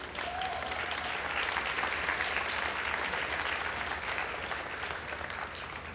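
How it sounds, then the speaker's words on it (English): A commencement audience claps in sustained applause for family and supporters, a dense and even roar of many hands that holds steady for several seconds before easing slightly. "I think they deserve a round of applause,"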